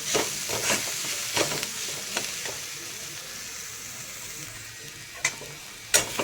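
Whole spices and grated fresh coconut roast in a little oil in a pan, giving a steady soft sizzle with occasional scraping stirs and a couple of sharper clicks near the end.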